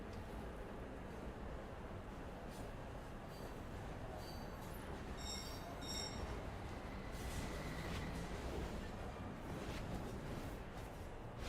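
Video game train at a station, a low continuous rumble of rolling carriages with faint metallic squeals and clinks, moderately distant and steady, no voices over it.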